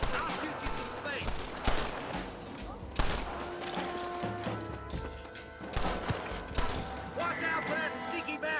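Shootout gunfire in Red Dead Redemption, scattered sharp gunshots cracking at irregular intervals over a busy background, mixed with shouted talk and other game sounds.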